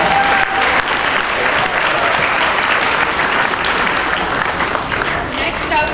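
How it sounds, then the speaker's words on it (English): Dense audience applause fills a school talent show hall, a steady wash of many hands clapping at full volume with faint crowd murmur underneath, sustained throughout. "Let's give them another round of applause."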